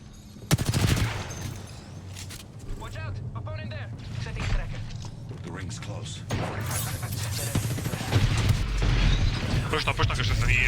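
Bursts of gunfire from Apex Legends, repeated volleys and clattering shots scattered through the clip, mixed with game effects and people talking over it.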